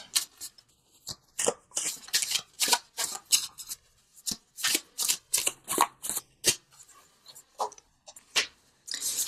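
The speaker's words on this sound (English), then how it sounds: "let's pull a visionary card from Noah Nafu, just for some added guidance" Tarot cards shuffled by hand before a card is pulled: a close, crisp run of rapid riffling bursts, each a short papery flutter, repeating in an uneven rhythm with brief pauses and no talking.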